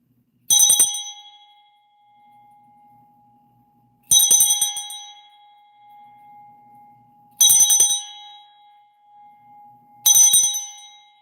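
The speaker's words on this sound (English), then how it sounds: "let me ring this bell." A hand bell is rung four times at spaced intervals. Each strike gives a bright, loud ring that slowly fades, with quiet gaps between rings.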